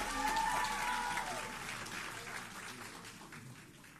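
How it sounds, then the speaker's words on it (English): Audience applause at an oratorical contest, a steady wash of many hands clapping that starts full and slowly thins and fades over a few seconds, with no talking over it. "Please give him another round of applause."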